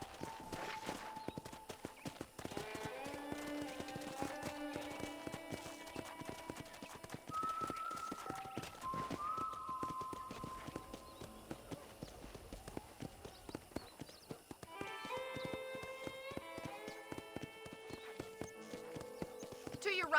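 Horse hooves clip-clopping in the Western game Red Dead Redemption, a steady rhythmic walk of hoofbeats throughout, with a neigh and people talking over it.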